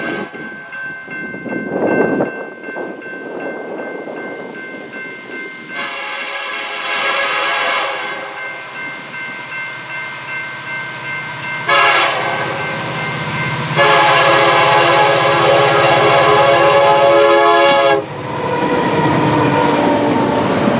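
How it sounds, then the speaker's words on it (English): A westbound Union Pacific intermodal train passes a rail crossing at top speed: a loud, sustained roar of cars and wheels with repeated horn blasts, steady and close throughout. "we caught a westbound Union Pacific Intermodal train at top speed"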